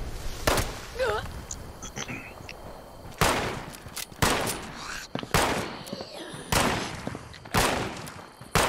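Gunfire in the video game Fallout 76, repeated sharp shots and short bursts at irregular intervals, with a voice talking over part of it.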